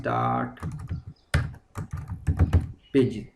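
Quick clicking keystrokes on a computer keyboard type out a style name in Microsoft Word, in short bursts between stretches of someone talking.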